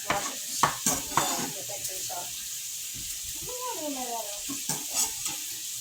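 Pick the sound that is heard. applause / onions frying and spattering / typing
onions frying and spattering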